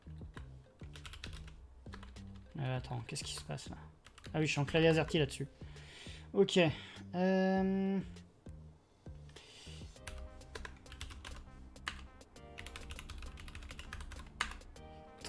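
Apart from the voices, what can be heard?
typing on an AZERTY computer keyboard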